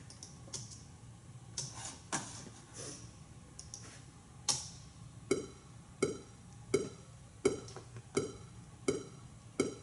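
A metronome click track plays evenly spaced sharp clicks, a few irregular taps at first, then a steady loud pulse roughly every 0.7 seconds, with no talk.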